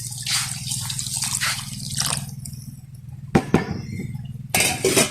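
Coconut milk is poured into a pan of frying potatoes in a village kitchen, giving a steady low sizzle and bubbling with splashy pours and a couple of sharp clinks from a vessel.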